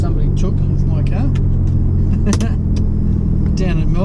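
A Suzuki Cappuccino drives around a corner with a steady low engine rumble running throughout, while someone talks continuously over the car noise.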